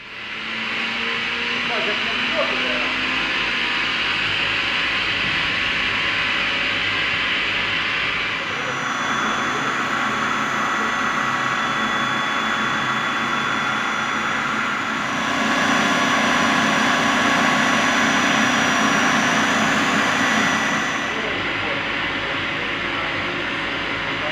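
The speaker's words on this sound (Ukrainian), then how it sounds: "Давайте запустимо компресор до роботи і послухаємо, як він працює." A Mast LZN-20 COMBO inverter screw air compressor runs with a steady, loud broadband roar and whine, its pitch and level shifting slightly partway through as the load changes.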